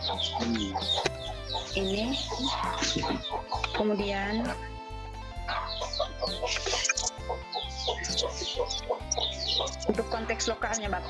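Chickens cluck and chirp repeatedly in the background while a person talks over them indoors, the fowl calls faint and intermittent throughout.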